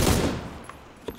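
A short burst of automatic gunfire from a PUBG match rings out loud and close, fires as warning shots, then fades, with a couple of fainter single shots after.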